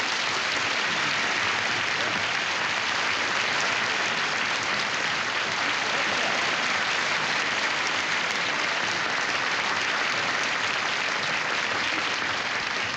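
Loud, sustained applause from a large audience at a Friars Club roast, dense clapping that holds steady throughout without pause.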